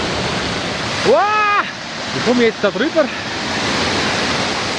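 The Isar river running with much higher water than normal gives a steady, loud rushing roar, while someone speaks briefly over it.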